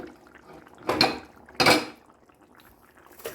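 A metal lid set onto a cooking pot of gongura chicken, giving two distinct clattering clanks about half a second apart, with a fainter knock at the end, close and clear with no talk.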